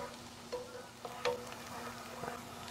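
Shallots sautéing in a pan over medium heat give a faint, steady low sizzle, with a few soft clicks and pops scattered through it.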